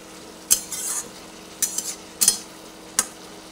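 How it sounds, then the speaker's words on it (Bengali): Carrot and potato pieces are stirred in a pan with Kashmiri chili powder, a spoon scraping in a few separate sharp strokes over a faint background hiss, fairly quiet and close. "কাশ্মীরি লঙ্কার গুঁড়োটা দিয়ে দেওয়ার পরে আবার এটা একসঙ্গে পুরোটার মধ্যে মিশিয়ে দিচ্ছি কালার হওয়ার জন্য"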